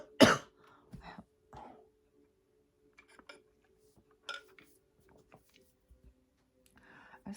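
Someone clears their throat loudly and coughs a few times up close, followed by scattered small clinks and quiet rustling in an otherwise quiet room.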